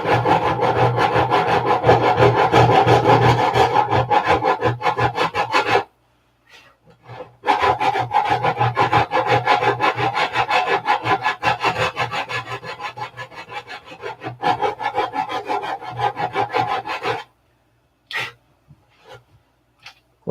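Hand sanding of a small wooden part in a hangar workshop: rhythmic, gritty back-and-forth rubbing in long close strokes, broken by a short pause and ending in a few scattered scrapes.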